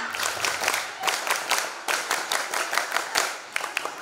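A group claps together in a scout-troop clapping chant at a school extracurricular showcase, a brisk, patterned rhythm, many hands beating in bursts, loud and close, with some crowd noise beneath.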